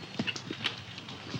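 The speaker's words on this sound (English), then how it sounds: "Here the horse must jump down into a dark ditch," Horse hooves clip-clopping on turf as a cross-country eventing horse approaches a sinkhole jump into a dark ditch, a steady rhythm of soft, fairly close thuds heard alone.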